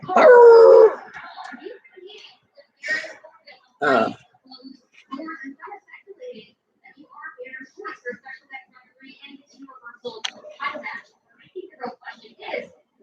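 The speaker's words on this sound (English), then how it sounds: "Husky howling." A four-month-old husky puppy's high, wavering howl rings out at the start, then a short yelp, followed by a voice talking for the rest.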